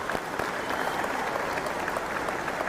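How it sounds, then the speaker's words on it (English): An audience at a local leaders' industry announcement in Gadsden gives a round of applause, a dense, steady wash of clapping from many hands throughout. "I want to give a single round of applause for David Hooks"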